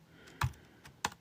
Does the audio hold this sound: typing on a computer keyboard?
yes